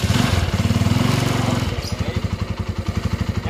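A Honda Tiger Revo motorcycle engine runs after starting, a loud, steady, rhythmic chugging that shifts into a slower, evenly spaced idle pulse, heard close and alone.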